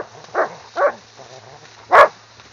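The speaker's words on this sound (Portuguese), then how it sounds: "Olha o barulho do cachorro." A dog gives three short, sharp barks against a quiet background, two close together and a louder one after a brief pause.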